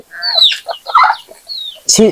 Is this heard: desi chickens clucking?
yes